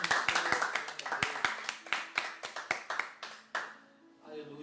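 Scattered hand clapping during an online church worship service, a few sharp, uneven claps close by, running for several seconds under a speaking voice before thinning out.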